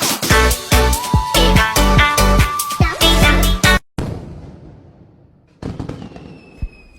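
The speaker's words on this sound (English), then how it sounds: "I hear them fireworks going off." Rapid bursts of fireworks popping and crackling loudly in quick succession, then a sudden stop followed by fainter distant crackles and a lingering hiss.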